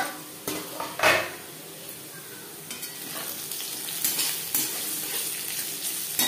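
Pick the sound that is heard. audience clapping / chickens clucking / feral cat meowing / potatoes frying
potatoes frying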